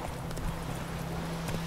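Hooves of Roach, the horse in The Witcher 3, clip-clopping steadily at a walk, close and moderately loud against a low game ambience, no voices.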